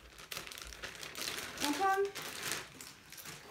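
A Shein plastic mailer package is torn open, with close, crinkling rustles of plastic that swell in the middle and then fade, and a short spoken exclamation partway through.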